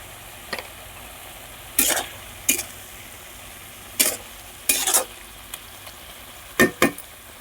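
A mushroom and potato curry with tomato cooks in a pan, with a handful of sharp scraping stirs in irregular bursts over a soft, steady sizzle.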